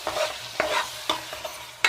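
A spoon stirs tomato paste into fried onions in a pan, giving several quick, close scraping strokes over a faint sizzle.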